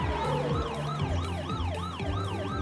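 An ambulance siren wails in a rapid rising-and-falling cycle, loud and close, with steady traffic rumble beneath it.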